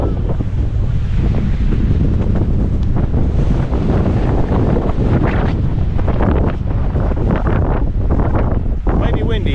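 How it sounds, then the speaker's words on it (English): Strong wind buffets the microphone in a loud, continuous roar across an old lava field on Maui's Hoapili Trail, steady throughout with no clear voices. "It's a tad windy today"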